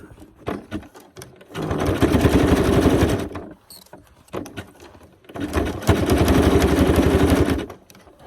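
A sewing machine stitching rope runs in two bursts of rapid, even mechanical chatter, each lasting about two seconds, separated by quieter handling clicks.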